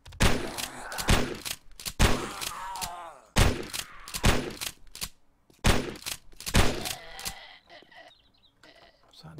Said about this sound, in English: Let's keep shooting.